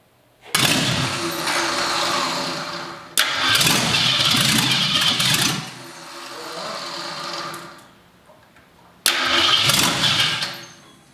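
A 1972 Ford 4x4 short-box pickup engine cranks and catches in repeated loud bursts, revving rough and steady, dropping off, then firing up again near the end, with no talk.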